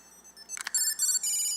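Electronic ringing from a key finder tracker set off through a phone app, a few bright tonal beeps and a sustained chirping alarm in bursts, close and fairly loud with no talking.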